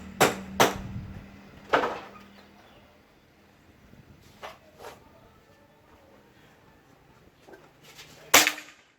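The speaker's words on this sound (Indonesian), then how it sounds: "tembakan pertama di sini ya" A PCP air rifle with a CNC-made sonokeling wood stock fires its first shot as a sharp crack, followed by a few more snaps and clicks of handling, then another loud shot near the end.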